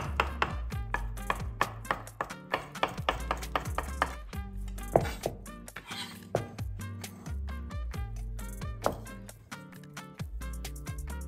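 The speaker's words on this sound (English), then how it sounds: "I shave off the leaves to minimize the stems and then we'll just chop it up" A knife chops fresh cilantro leaves on a cutting board in quick, steady, close strikes, a dense rhythmic run of sharp taps under low background music.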